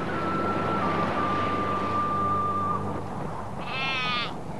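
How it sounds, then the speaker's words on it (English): Sheep on a windy, rocky island bleat out in the open, one clear wavering bleat standing out near the end over a steady background of wind and earlier fainter animal calls. "There are hundreds of sheep on our island."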